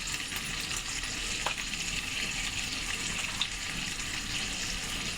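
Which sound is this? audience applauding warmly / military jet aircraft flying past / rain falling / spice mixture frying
spice mixture frying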